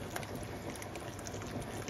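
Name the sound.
pot of water boiling for angel hair pasta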